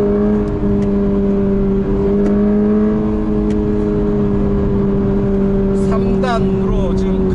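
A Toyota GR86 boxer engine drones steadily in third gear on a race track, with a strong, even tonal hum held throughout and a faint squeal or chirp near the end.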